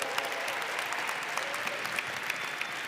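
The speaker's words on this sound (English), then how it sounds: "Give her a round of applause." An audience at a seminar event gives steady, crowded applause, a dense continuous clatter of many hands clapping at even loudness throughout.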